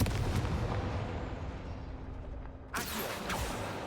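In a Hogwarts video game, a Confringo explosion spell goes off with a sudden sharp blast, preceded by rumbling, crackling magical effects and followed by a ringing tail.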